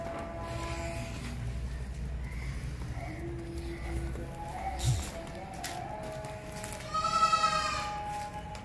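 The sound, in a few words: goats bleating at a livestock market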